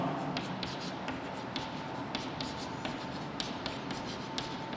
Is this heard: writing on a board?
yes